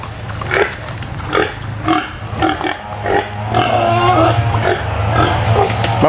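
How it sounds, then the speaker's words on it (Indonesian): Batam pigs feeding greedily on a farm, a steady run of close, loud grunts and snorts with a low continuous rumble underneath, sounding almost nonstop. "Ini babi Batam, jadi dia makannya rakus sekali."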